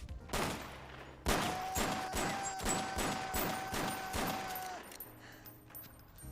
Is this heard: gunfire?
yes